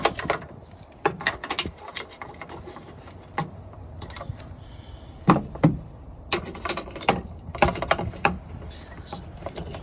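Bolts tightened in a crisscross pattern on a Pentair MasterTemp pool heater bypass assembly, heard as repeated sharp ratchet clicks and metallic taps in bursts, close up.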